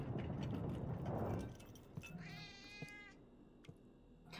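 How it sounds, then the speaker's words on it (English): A cat meows once in a high, wavering call, quiet and fairly close, after a burst of broadband noise. A few faint clicks and taps follow. "Oh, we have a kitty cat!"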